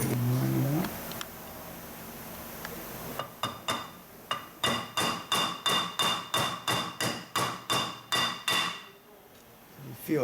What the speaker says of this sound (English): the only thing left is to put the pins back in, and you need a brass hammer for that.